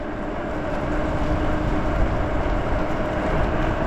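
A Lyric Graffiti Class 2 e-bike accelerating at full throttle on a road clear of snow and ice, giving a steady, loud rushing whir of motor and wind that holds without a break and with no voices.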